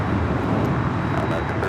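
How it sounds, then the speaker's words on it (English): An American Airlines Airbus A321 departs LAX for JFK with a loud, dense engine roar and rumble holding steady, a faint high whine on top and a voice speaking over it. "That is American Airlines Flight 32 taking off to JFK on the A321."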